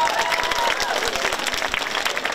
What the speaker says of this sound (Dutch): Geef hem een warme applaus.